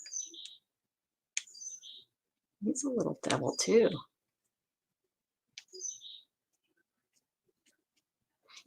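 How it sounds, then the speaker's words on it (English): Short, sharp bird chirps sound in brief bursts from outdoors, while someone speaks briefly in the middle of the otherwise quiet stretch. "Oh, the birds are out there yelling."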